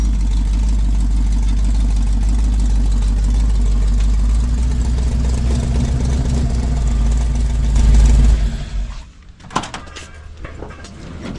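A 1965 Ford Mustang with a 347 stroker small-block Ford V8 idles loudly nearby, a deep steady rumble that cuts off near the end, followed by clunks and a door sound.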